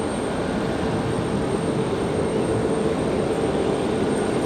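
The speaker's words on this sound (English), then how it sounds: "That's going to be that Delta 1699 coming in from Atlanta" A Delta Boeing 737-900ER jet arriving from Atlanta at Raleigh-Durham International Airport, heard as a steady, loud broadband engine roar that holds evenly throughout with no voices.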